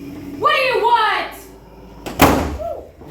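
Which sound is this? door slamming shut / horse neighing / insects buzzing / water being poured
door slamming shut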